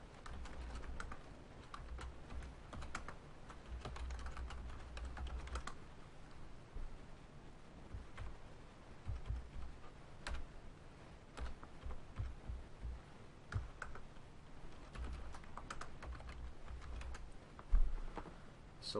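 Someone types registration details on a computer keyboard, producing quiet, close, irregular clicking keystrokes in bursts with brief pauses, and nobody speaks.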